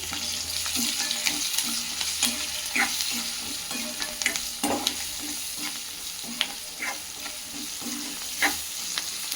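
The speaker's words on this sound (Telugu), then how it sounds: "ఇప్పుడు సాల్ట్ వేస్తున్నాను పసుపు వేస్తున్నాను ఇదంతా మళ్ళీ మిక్స్ చేస్తాను" Onions frying in a pan with salt and turmeric, stirred steadily, a continuous loud sizzle under a regular rhythm of spatula scrapes against the pan, close up with no talk.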